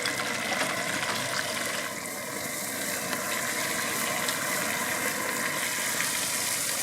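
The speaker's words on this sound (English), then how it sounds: "And it's really bubbling up." Chicken in Marsala sauce bubbling hard in a pan on a backyard grill, a steady close sizzle and crackle with a low mechanical rumble beneath, no talking.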